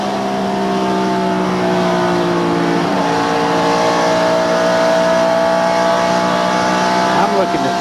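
NASCAR race cars at the 1997 UAW-GM Quality 500 roar continuously around the track, several engine tones layered and shifting in pitch as cars pass, loud throughout with a commentator's voice faintly under the din.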